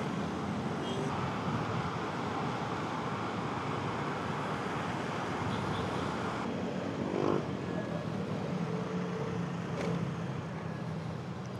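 Dense, heavy traffic noise on a busy road, a constant roar of cars and trucks with faint wind buffeting, steady and unbroken with no clear voices.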